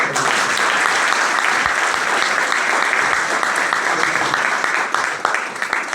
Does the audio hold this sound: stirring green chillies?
no